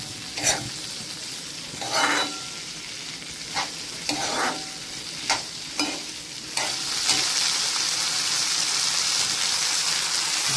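Cluster beans, squeezed of water, stir-fry in oil as a dry Maharashtrian sabzi: a spatula scrapes the pan in several separate strokes, then a steady, close sizzle takes over, with no talking.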